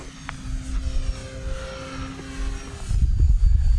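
An E-flite Turbo Timber electric RC plane whines as it takes off on a quick one-wheel run, the motor pitch rising and the sound swelling louder toward the end.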